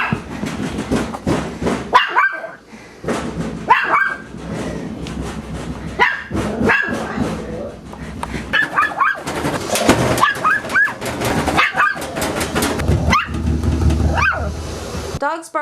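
A small Chihuahua barks repeatedly in sharp bursts at a washing machine, irregular and close, with some speech and background noise between barks.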